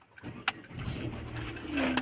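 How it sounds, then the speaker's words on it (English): A Hyundai Grand i10 engine cranks and catches with a short whirring start, then settles into a steady, fairly quiet idle heard from inside the car. "Let's start the car."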